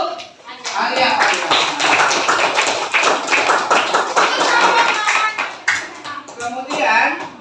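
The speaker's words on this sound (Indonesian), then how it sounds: "tepuk tangan untuk Alia." A school class claps together in a room, a loud, quick run of handclaps lasting several seconds that thins briefly near the end before picking up again, with voices mixed in.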